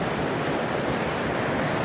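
Ocean surf on a Divi Beach shoreline in Aruba after a storm, a constant loud wash of breaking waves mixed with wind buffeting the microphone, no voices.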